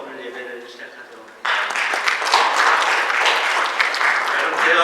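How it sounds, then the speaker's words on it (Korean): During a Korean Baptist church Sunday worship service, someone speaks briefly before the congregation bursts into loud, sustained applause that fills the room for the rest of the moment. "우리 하나님께 영광의 박수로 오늘 예배를 시작하도록"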